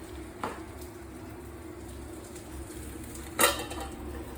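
A cooking pot lid clinks down twice, a light metallic tap early and a louder clatter near the end, over a steady low background hum.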